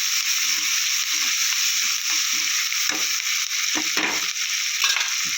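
Onions fry in a pan with chili powder, salt and coriander leaves for goat blood fry, a loud, constant hiss of sizzling oil with occasional stirring scrapes and rattles, close up and without speech.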